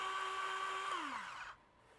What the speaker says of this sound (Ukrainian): І коли включаємо на 6, він працює швидше, ну і потужніше.